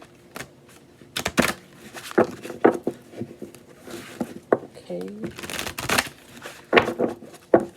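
Tarot cards being shuffled and riffled close up in quick, irregular bursts of flapping and snapping, with a person talking over the handling.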